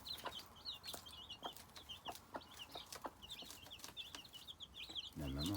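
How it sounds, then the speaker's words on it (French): A mother hen clucks repeatedly in short chirpy bursts, close by, calling her chicks in a coop, with sharp knocks and scratching around her and a low rumble at the very end. "La maman a appelé les poussins"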